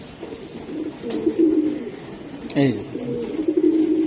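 Bengali pigeon breeds offered at a sale, among them Beji, Pankhi and Silver Giribaj, coo in repeated throaty rolling bursts close by, while someone speaks briefly over them.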